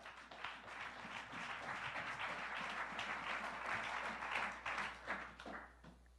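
A church congregation applauds, a sustained wash of many hands clapping at moderate distance that swells and thins over several seconds.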